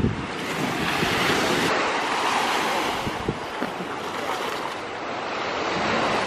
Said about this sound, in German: Das Meer.